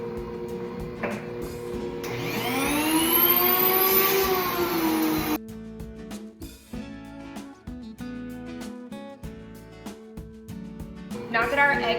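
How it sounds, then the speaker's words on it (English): A home grain mill grinds soft white wheat into flour, a loud rising whine and whir that stops abruptly, followed by clattering knocks and faint voice-like sounds. "I'm going to go ahead and mill my flour real quick"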